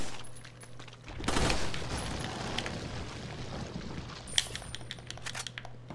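Gunfire from a weak gun in Resident Evil 4, heard as a dense burst of rapid crackling shots that starts sharply and fades into scattered rattling, with a lone sharp crack near the end.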